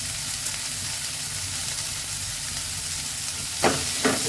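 Beans and carrots with salt frying in a pan give a steady close, loud sizzle, joined near the end by a couple of short scraping stirs.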